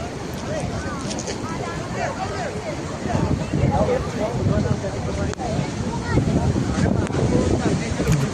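Athirappilly waterfall sends a continuous broad roar of rushing water, heavy with wind buffeting the microphone, while nearby voices murmur faintly beneath the torrent.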